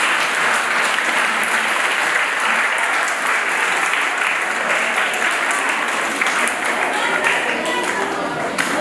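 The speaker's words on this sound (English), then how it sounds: "Now, can we all clap for these wonderful parents?" A school assembly audience claps for the parents, loud, dense, continuous applause filling the hall from start to finish with no break.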